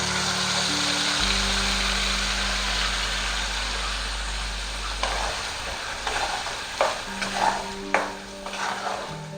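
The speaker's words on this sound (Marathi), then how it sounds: "आता आपण जो वाटून घेतला आहे तो मसाला टाकतेय मी." Ground masala stirred and frying in hot oil in a pan for paneer masala, a steady close sizzle with scraping stirs growing busier toward the end over a low background hum.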